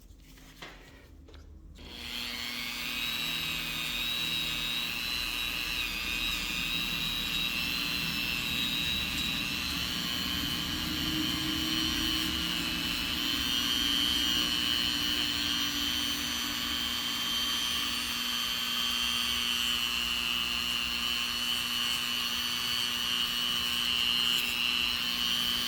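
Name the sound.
polishing wheel cleaning Glock 33 pistol part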